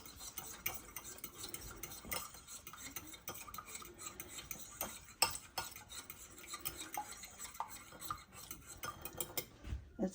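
Egg wash thinned with a little water is whisked briskly with a utensil in a bowl, giving rapid rhythmic clinks and scraping taps close up with no talking.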